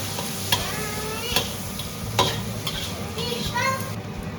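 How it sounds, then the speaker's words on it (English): Dried prawns stir-fried in a wok with a little oil over heat, a steady sizzle broken by several sharp scrapes and clatters of the spatula against the pan, close and alone. "Put in the dried prawn and stir fry for 5 minutes."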